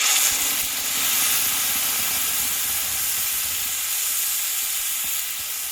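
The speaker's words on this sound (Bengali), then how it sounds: "এবার এখানে নিয়েছি বন্ধুরা টমেটো আদা কাঁচা লঙ্কা আমি পেস্ট করে নিয়েছি দিয়ে দেবো" Tomato, ginger and green chilli paste hits hot oil in a pan with cardamom, giving a steady, loud broadband sizzle and hiss that runs unbroken for the whole stretch, close by and alone.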